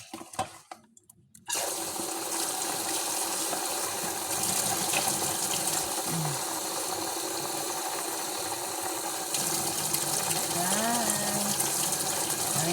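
Running tap water pours steadily while something is being washed, a constant close gushing hiss with faint clinks and squeaks under it, preceded by a short burst of handling noise.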